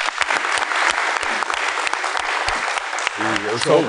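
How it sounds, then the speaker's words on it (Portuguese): A studio audience applauds in a burst of scattered, fairly close clapping that runs throughout, ending as a voice starts speaking over the last moments. "Uma salva de palmas para você."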